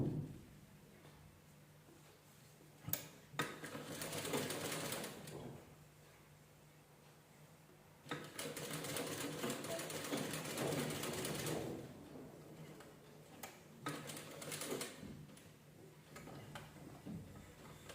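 A sewing machine stitches a black blouse neck in two longer bursts and a few short ones, separated by quiet pauses and light handling clicks.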